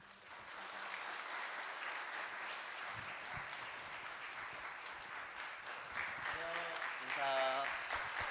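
A church congregation applauds together at a Sunday service honoring retiring and reappointed members, steady clapping filling the hall for several seconds, with a brief spoken voice near the end.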